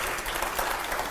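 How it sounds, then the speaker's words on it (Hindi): Loud, dense applause from a studio audience at a Hindi general-knowledge quiz show, a steady uninterrupted roar of clapping with no voices. "जोरदार तालियों के साथ अगला सवाल प्ले करिए जरा।"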